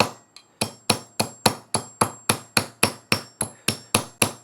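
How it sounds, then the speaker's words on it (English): Hammer striking metal held just above the workpiece, ringing blows in a steady rhythm of about three per second, each sharp, loud and close with a bright metallic ring decaying between strikes. "if you hold it just above the work and hammer it, then you can sort of get a bit of a woven pattern out of it"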